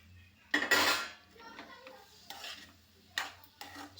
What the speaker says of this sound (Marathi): चला आता याच्यात टाकत आहे आपण पनीर मटर फुलकोबी